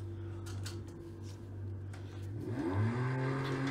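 A truck engine in the racing game Project CARS 2 hums at a steady low drone, then revs up with a rising whine near the end, fairly quiet throughout.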